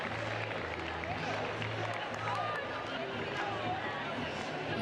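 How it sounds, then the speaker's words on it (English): A noisy stadium crowd at a Women's Super League football match between Chelsea and Brighton on a sunny autumn afternoon, a steady broad roar of distant chatter and cheering, with a commentator's voice faintly mixed in. "And so in front of a noisy crowd on a glorious sunny autumn afternoon."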